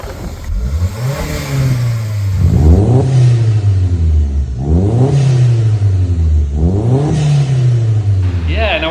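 Mk1 Audi TT 225 with a 3-inch turbo-back exhaust from the downpipe back, revving repeatedly in loud, bassy swells that rise and fall three times, heard close up.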